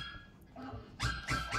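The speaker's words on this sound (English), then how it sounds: "now we are listening to some dogs barking, and my, those dogs are barking" Dogs bark in a recording played back through a speakerphone, two loud, high-pitched barks landing near the end after a quieter, whimpering stretch.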